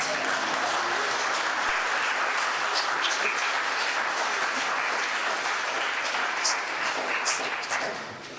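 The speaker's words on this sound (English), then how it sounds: "I think that was an actor clapping" Steady, full audience applause for an actor at an outdoor flag-raising ceremony during Cyprus Week at Theatro Technis, continuous and fairly loud throughout, tapering off in the last second.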